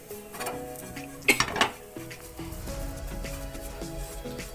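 Chili, coriander and turmeric powders being stirred and fried in a pan for fish curry, with a cluster of loud metal clinks and scrapes of spoon against pan near the middle over a low steady kitchen background.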